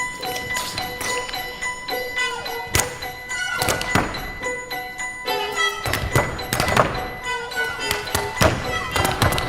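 Crisp taps and heel thuds in quick, syncopated rhythm, close and clean, like tap shoes striking a hard floor with occasional ringing tones behind.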